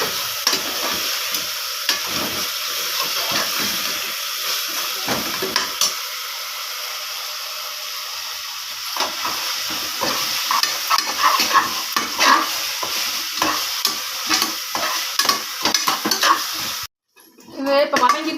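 Steady sizzling of chili powder and spices frying in a pan for paruppu arisi sadham (lentil rice), with repeated scraping and stirring strokes throughout, briefly cutting out near the end.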